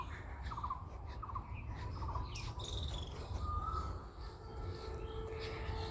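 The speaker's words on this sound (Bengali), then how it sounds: "শোনা যায় পাখির ডাক" Birds perched on a wire beside a countryside garden plot give short, repeated chirps at mid distance over a steady low rumble, with a few clearer calls standing out.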